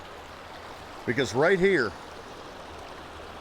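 Water in a creek on an off-road crawler trail flows with a steady, quiet rushing hiss that continues throughout, while someone speaks briefly in the middle.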